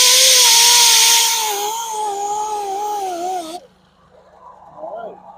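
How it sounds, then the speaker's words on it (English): An angle grinder fitted with a 60 grit disc sands a curb-rashed BMW X5 alloy wheel, a loud high whine with a wavering pitch that cuts off abruptly, leaving quiet handling noises afterward. "Let me get that spot where I slipped with the grinder with the 60 grit."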